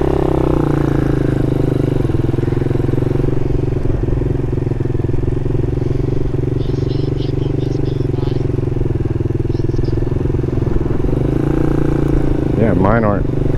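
A Honda Monkey and a Grom clone motorcycle, the clone fitted with an aftermarket exhaust, ride at steady speed with a loud continuous engine drone and wind rush while a rider talks over it.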